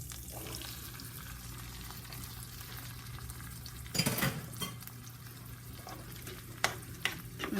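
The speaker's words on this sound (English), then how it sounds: "So now I'm just gonna add my beans." Beans dropped into a hot pan and frying with chorizo, giving a soft continuous sizzle with a sharper burst of crackle as they land and a few light clinks of a utensil against the pan.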